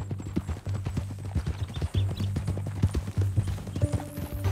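Horse hooves clip-clop in the video game Red Dead Redemption 2, a steady, close walking rhythm of sharp knocks over a low ambient hum, with faint voices near the end.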